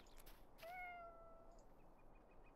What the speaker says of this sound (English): I just heard a cat. It's a cat!